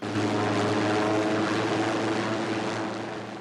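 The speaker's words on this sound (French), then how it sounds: "Notre hélicoptère nous escorte jusqu'à la trop fameuse île de Déception" A helicopter escorts an expedition ship toward Deception Island in Antarctica in 1976. Its rotor and engine give a steady, loud, droning whir that holds constant throughout.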